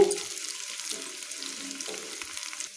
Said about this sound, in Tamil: இப்போ நம்ம பொடியாக கட் பண்ணி வச்சு இந்த சின்ன வெங்காயத்தை இதோடு சேர்த்துடலாங்க.